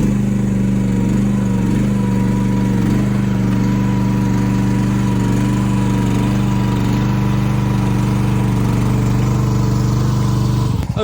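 Mini excavator engine running steadily at close range, a loud, even mechanical drone with a constant low hum and no change in pace, outdoors in snow beside a bank.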